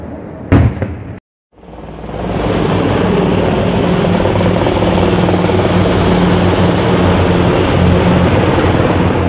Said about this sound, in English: Nothing but helicopters just flying by.